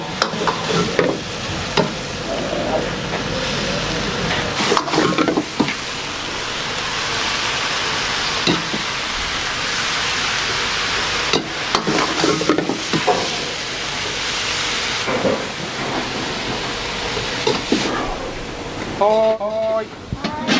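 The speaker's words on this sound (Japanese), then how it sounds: "皿うどん1つ。" Sara udon noodles stir-fried in a wok at a roadside ramen restaurant, a steady broadband sizzle with repeated scraping stirs, while staff call out orders in the background.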